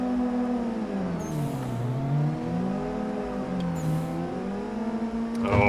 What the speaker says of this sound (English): Whipping it in down to second. Little clutch kicks, little e-brakes.